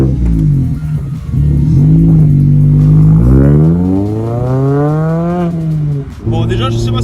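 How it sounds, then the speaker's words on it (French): A Mazda MX-5 ND fitted with a modified exhaust pulls away and accelerates, its engine note rising steadily through the revs, then dipping and climbing again, loud and close as if heard from inside the car. "mais avec l'échappement, c'est déjà quand même pas la même chose."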